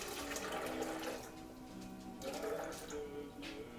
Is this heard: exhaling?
no